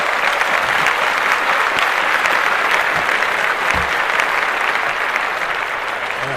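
Loud, dense applause from a group cheering news of a kidney transplant, steady clapping that runs unbroken for several seconds with no talk over it.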